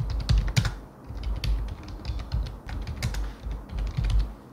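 Fast typing on a computer keyboard fills the clip, a dense irregular patter of close keystrokes with no voices.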